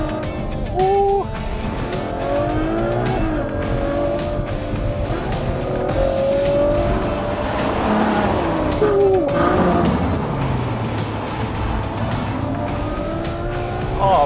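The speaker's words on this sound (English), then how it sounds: "that's where we come to the whole aspect of the naturally aspirated engine" A Ferrari GTC4 Lusso's naturally aspirated V12 accelerates through a bend, its engine note rising and falling in strong swells, with a brief tyre squeal as the car works through the corner.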